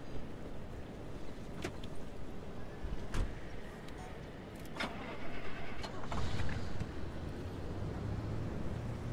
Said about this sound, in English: I would like to move the car because it is kinda close to those up there, so let's just move it a little bit down the road here